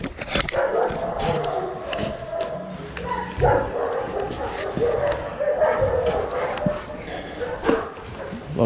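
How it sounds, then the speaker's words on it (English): Many dogs bark and yip continuously at a kennel, a busy, overlapping chorus of near and distant barks with someone talking over it. "A lot of dogs here today."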